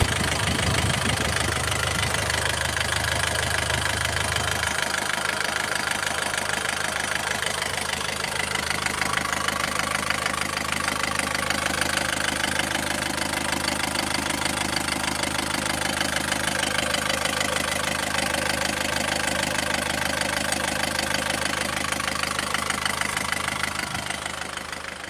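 An Isuzu Panther diesel engine with newly fitted original liners idles steadily at close range, a continuous low rumble with a faint knocking beat throughout, its tone shifting slightly after the first few seconds.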